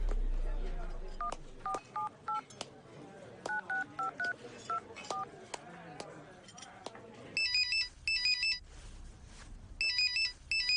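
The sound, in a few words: telephone dialing and ringing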